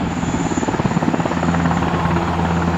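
An Italian Navy NH90 helicopter flying a display at the ILA Berlin Air Show 2012, its rotor throbbing loud and steady in a fast beat over a turbine whine, with no talk heard.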